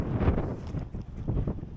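Gusty wind buffets the microphone beside open water on a pike fishing trip in the Netherlands, a brief rumbling rush that rises and falls.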